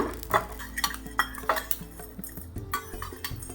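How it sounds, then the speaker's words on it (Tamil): Spices dry-roast in a pan with no oil while a metal spoon stirs them, giving repeated close scraping clinks and taps over a faint crackle; no voices. "எண்ணெய் எதுவுமே ஆட் பண்ணாமல் பாருங்கள் நல்லா பொரிஞ்சு வருது."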